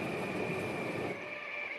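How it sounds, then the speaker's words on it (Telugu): A train from a high-graphics train simulator game runs on its rails at about 95, giving a steady, loud rolling rumble with a sustained metallic whine that eases slightly near the end, with no voices. "ఓకే 95 స్పీడ్లో పోతుంది ట్రైన్."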